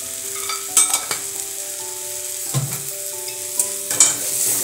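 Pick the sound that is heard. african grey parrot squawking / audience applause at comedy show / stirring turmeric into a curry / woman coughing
stirring turmeric into a curry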